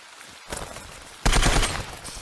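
Sniper gunfire in the video game ZERO Sievert: two sharp shots, a softer one followed by a louder, fuller blast that rings out briefly.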